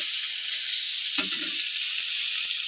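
Potatoes and pointed gourd fry in a pan with a loud, steady hiss of oil, and a brief spatula scrape sounds partway through, with no talking.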